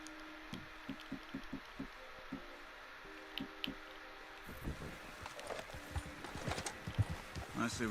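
Horses in the Red Dead Redemption 2 video game, a rhythmic series of hollow hoof clops at a trot, fairly soft, giving way to scattered irregular steps and rustles later, with game voices talking.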